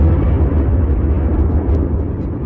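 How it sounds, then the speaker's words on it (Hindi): An explosion sound effect for the birth of the Sun: a sustained, deep, loud rumbling roar with dense low-end energy, continuous across the whole stretch without distinct bursts. "बीच के इस भयंकर दबाव के कारण एक विशाल विस्फोट हुआ"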